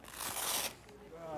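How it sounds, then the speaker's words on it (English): The zipper of an immersion suit is pulled open from the inside beside cold water, one brief raspy zip lasting under a second, close, followed by quieter rustling and a faint voice. "open the zipper from within"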